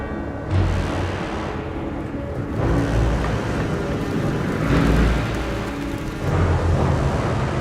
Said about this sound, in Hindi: ये काला तूफान है।